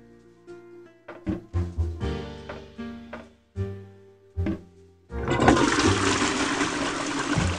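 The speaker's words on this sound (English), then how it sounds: "Let's turn off the water to save the environment." Water gushes loudly from a tap in a video game store room, a steady broad rush that starts abruptly after a series of clunky thuds and knocks and keeps running to the end.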